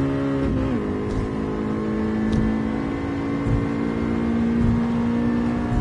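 A car engine held at full throttle in Gran Turismo 7 drones steadily and loudly, a sustained whine that rises at the start and then stays nearly constant, with no talk over it.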